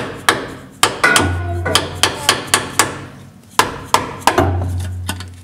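A hammer beats on a Dodge Ram 1500 differential cover to break it loose, giving about fifteen sharp metallic blows in uneven bursts, some with a brief ringing tone, loud and close with no talk.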